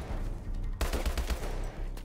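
Automatic gunfire in Call of Duty: Advanced Warfare cracks out in a rapid burst of close, heavy shots over a low rumbling battle background.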